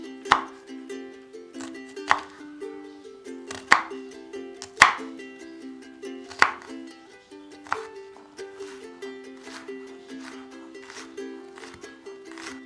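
Onions finely chopped with a knife: soft, distinct chops fall at a slow, fairly steady pace, roughly one every second or so, over a continuous tonal hum.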